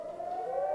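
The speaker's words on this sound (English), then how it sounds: "I can wait for the sirens to tone down" Civil defense sirens sounding outside give a brief, steady sustained tone, moderately loud, with no talking.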